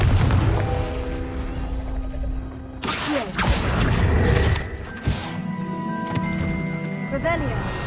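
A Confringo fire spell from Hogwarts Legacy bursts with loud, crackling blasts around the middle and near the end, set against a busy game soundtrack with steady tones and a voice calling out over it.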